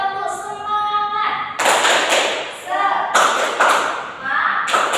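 Children in a second-grade classroom perform a rhythmic spirit clap, with bursts of patterned clapping and thumps between a teacher's sung and spoken prompts.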